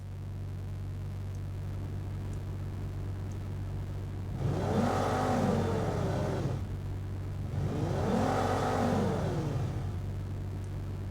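A low steady engine hum of a custom-designed robot sound effect runs throughout, swelling twice into louder revving whirs that rise and fall before settling back.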